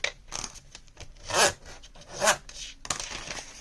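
A scoring tool drags across a piece of paper or cardstock for folding, giving close scratchy rubbing strokes, two louder passes standing out among softer handling sounds.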